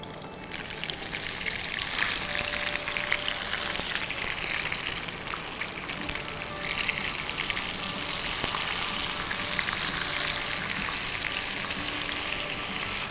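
Two flour-coated small yellow croakers deep-fry in hot oil, a dense, even sizzle with fine bubbling crackle that holds steady throughout, close and alone with no voices.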